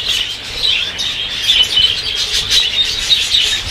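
Small birds in a home aviary chirp and tweet repeatedly at close range, with some wing flapping among the calls.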